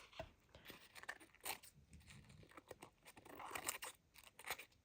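Scissors snip off excess gel-print paper or card at the edge of a box lid, a few quick crisp cuts with rustling handling in between, close and fairly quiet.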